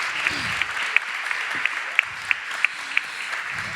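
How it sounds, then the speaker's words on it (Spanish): Theatre audience applauding steadily, a dense wash of clapping with a few sharper individual claps standing out near the front, no talk over it. "un aplauso para ellos también."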